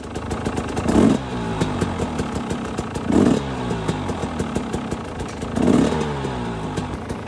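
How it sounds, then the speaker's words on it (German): Rebuilt motorcycle engine idling at very low revs, a steady close mechanical rumble with a faint clatter and three brief swells in loudness spaced a couple of seconds apart, no voices. "wenn ich nur das Standgas höre"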